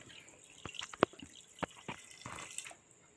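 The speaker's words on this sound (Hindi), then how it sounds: "मटन डालने के बाद हम लोगों ने तकरीबन 1 लीटर पानी लेना है और सारा पानी हम लोगों ने इसके अंदर डालना है" Water is poured into a pressure cooker holding mutton, making scattered splashes and drips with one sharper splash, fairly quiet and close, with no talking.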